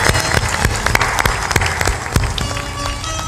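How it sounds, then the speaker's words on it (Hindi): Audience applause at a live motivational storytelling event, dense steady clapping from a crowd that holds strong and continuous throughout, with a few sharper claps standing out. "सब लोग ताली बजाकर आनंद"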